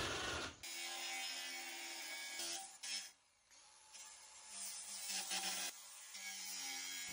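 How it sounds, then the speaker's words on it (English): A hole saw cuts a circle into a wooden window sill during a load-bearing bay window installation, giving a steady grinding, rasping drone with brief pauses and restarts, close and loud throughout. "The hole saw is now being used to drill a circle in the sill to accommodate the bay jack."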